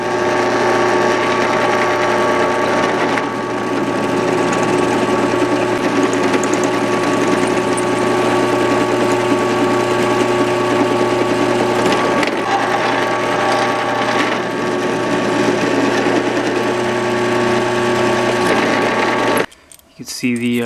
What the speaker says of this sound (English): You never want to try to hold on to a piece of metal that you're drilling.